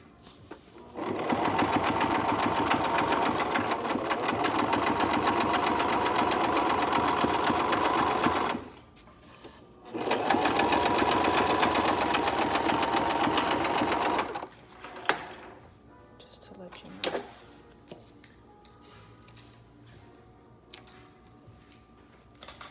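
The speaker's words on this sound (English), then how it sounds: "now I'm gonna do my zigzag for support" A home sewing machine runs a zigzag stitch while sewing a fabric mask, two long steady bursts of close, loud mechanical whirring with a brief pause between them, then quieter handling clicks.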